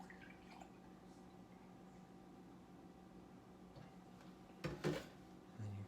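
Milk poured into a frozen butter and flour mixture for biscuits, a soft liquid splash and pour rising briefly near the end over quiet kitchen background.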